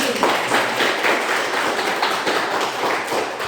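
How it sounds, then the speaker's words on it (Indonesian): Classroom applause for a student group during a peer-teaching lesson: brisk, rhythmic hand clapping from a room of pupils, fairly close and steady throughout. "Kita beri tepuk tangan untuk kelompok 1."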